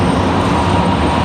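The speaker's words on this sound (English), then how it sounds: "You guys are hearing a 737-900 from Delta as well as a 717 from Delta getting a move on, headed out to the end of the runway" Delta Boeing 737-900 and 717 jets taxi toward the runway at windy Raleigh-Durham International Airport, giving a steady, dense broadband engine roar that holds level throughout with no voices.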